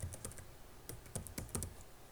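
Quiet, quick keystrokes on a computer keyboard as a password is typed, a short run of light clicks at an uneven rhythm with no talking.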